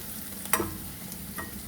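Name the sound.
crushed garlic and spring onion frying in a pan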